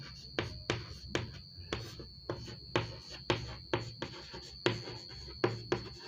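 Chalk or pen strokes on a board while working through a math problem, a steady series of short scratchy marks in quick bursts with brief pauses between, close and fairly quiet, no talking.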